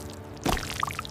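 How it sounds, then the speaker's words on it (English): A cartoonish splash effect as a scoop of ice cream falls, a sudden wet burst with bubbly, dripping tail that follows a quiet stretch; close and fairly loud. "Splash."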